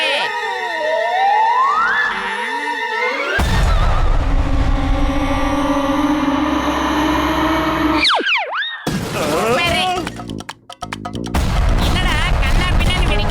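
Cartoon bombs go off in a 3D animated kids' show, with loud broadband blasts, whooshing and zany boing effects, bursting in separate bouts amid character voices.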